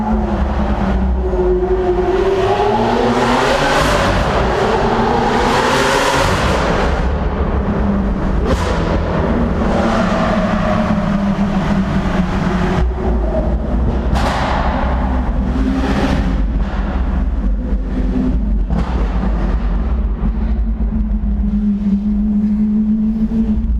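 A Lamborghini Aventador with a Liberty Walk kit roars loudly and continuously, its engine revving up and down in repeated surges and sustained howls, heard up close with no talking.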